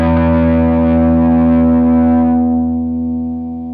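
A single electric guitar chord through a VauxFLORES tropicalia distortion pedal rings out loud and sustained, its gritty overdriven tone slowly decaying.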